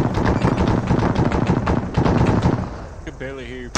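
Heavy video-game gunfire sounds from the front during a military convoy: loud, dense bursts of rapid shots roll on for several seconds, then thin out, with voices over the radio.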